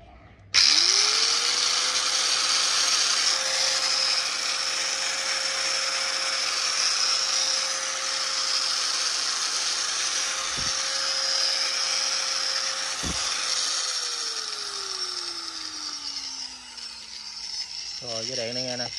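A Hitachi G10SH5 100 mm angle grinder, 100 V and 720 W, built in 2013, spins up into a loud, steady high-pitched whine, gives two brief dips mid-run, then winds down as the motor coasts to a stop.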